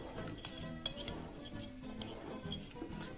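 Spoon or utensil clinking against a bowl while salt and freshly ground black pepper are mixed in, a steady run of light scraping and clinks with one sharper tap near the start.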